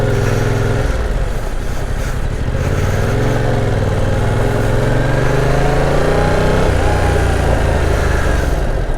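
Stock-exhausted 2022 Yamaha R7 motorcycle engine, a loud continuous drone rising and falling as the revs climb and settle, heard up close alone without talk.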